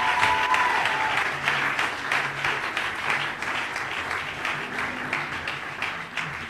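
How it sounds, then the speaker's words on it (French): Congregation at a church sermon applauding, steady dense clapping from many hands filling the whole stretch, loud and continuous without a break. "clap for Jesus"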